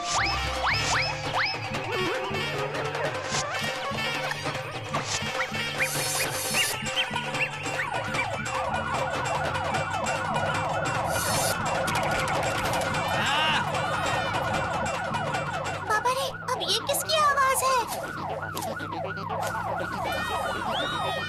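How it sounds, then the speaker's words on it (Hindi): A loud wailing burglar alarm siren cycles continuously for a long stretch, its pitch sweeping up and down, with a rising warble near the end. "इसे चोरी का सायरन कहते हैं।"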